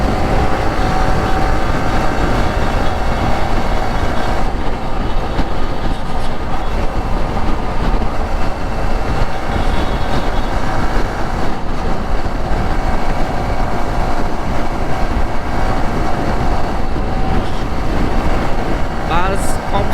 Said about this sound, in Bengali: বাসটা টানতেছে